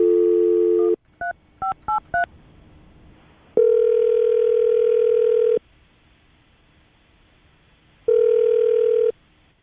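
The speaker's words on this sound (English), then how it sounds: "We're going to call her right now, get her on the phone" A telephone dialed for a radio call: a steady dial tone, a quick run of touch-tone keypad beeps, then two long ringback tones separated by a pause, loud and close with no talking.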